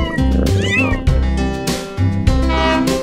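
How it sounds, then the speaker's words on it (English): A kitten meowing in a children's nursery-rhyme counting song, several loud, close meows over bouncy music. "Kittens."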